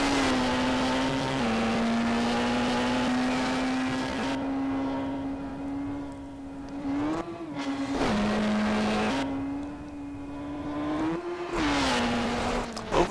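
A low-powered Ford Fiesta rally car at the Coffs Harbour Rally drones along under steady throttle, its engine note holding then dipping and rising with gear changes and lifts, loud and close throughout.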